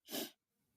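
A single short, sharp human sneeze, close and fairly loud, followed by a faint breathy exhale.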